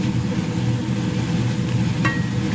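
Steady, dense sizzling and crackling of glutinous rice mini donuts deep-frying in hot oil, constant throughout, with a brief clink near the end.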